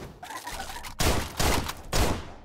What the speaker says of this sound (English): I wasn't supposed to shoot the Revenant there